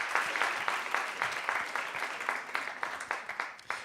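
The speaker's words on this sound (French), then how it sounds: "on peut les applaudir bien fort" Audience applause at an award ceremony, steady clapping from a crowd that rolls on throughout, thinning toward the end into a few separate claps.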